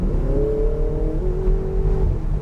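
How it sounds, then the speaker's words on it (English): A Ferrari 488 accelerates on the track at NJ Motor Sports Park, its engine note rising as a steady, loud, close drone with a smooth upward pitch sweep, heard alone without talk. "roll into that throttle, accelerate out to the red cone"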